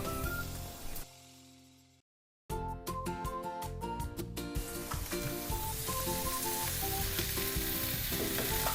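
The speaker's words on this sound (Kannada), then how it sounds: "ಈಗ ಇದಕ್ಕೆ ಆ ಕ್ಯೂಬ್ ಆಗಿ ಕಟ್ ಮಾಡ್ಕೊಂಡಿರೋ ಪನ್ನೀರನ್ನ ಆ್ಯಡ್ ಮಾಡ್ತಾಯಿದ್ದೀನಿ" Cubed paneer tipped into a hot pan for a dry pepper fry, frying with a loud, steady sizzle after a brief silent break, with stirring clatter underneath; no talking.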